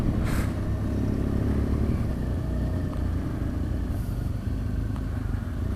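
A motorcycle engine drones steadily and loudly while riding on a road in Ecuador, with wind and road rumble throughout and no pauses.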